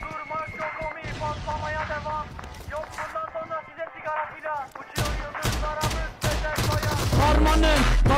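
Gunfire rings out in the mobile battle royale game PUBG Mobile, sharp repeated shots and bursts that grow heavier toward the end, mixed with music-like tones and overlapping game sound.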